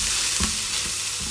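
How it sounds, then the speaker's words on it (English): Onions and mushrooms cooking in a pan for creamy garlic chicken, giving a constant close hiss of frying with a few soft stirring scrapes. "And the mushrooms are cooking."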